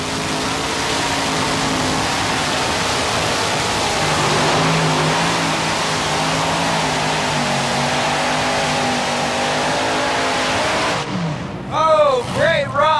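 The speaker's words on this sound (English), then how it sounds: "supercharged engines on the Mean Mistreater." Multiple supercharged engines on a modified pulling tractor at a 1987 tractor pull in Syracuse, a loud sustained roaring blare that holds for several seconds and then drops off, with an announcer talking over it.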